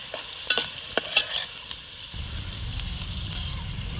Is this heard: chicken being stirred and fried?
yes